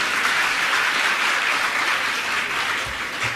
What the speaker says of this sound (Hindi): ये ताली अगर बजानी है तो ढंग से बजाइए।